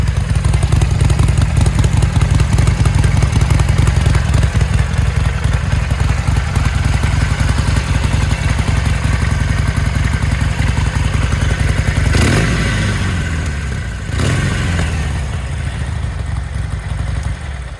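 Harley-Davidson Sportster 1200 engine idling when warm, a loud, close, steady lumpy throb with mechanical clatter, then two sharp revs near the end that rise and fall before it settles back.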